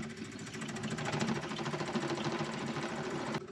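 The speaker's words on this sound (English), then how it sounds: "So I'm gonna turn off the pump because we should have a full bowl of fuel there." An electric fuel pump runs on a junk 1952 Kenworth Pacific bus with a steady, fast, rattling buzz that holds for several seconds, then cuts off abruptly near the end.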